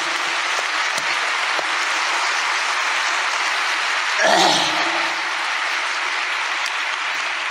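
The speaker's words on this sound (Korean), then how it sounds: "그렇다고 생각하던 박수로 이 시간을 환영합시다" Audience in a large convention hall in Songdo, Incheon, clapping in welcome at a religious rally; a steady, broad wash of applause persists throughout, swelling briefly near the middle, with no voices on top.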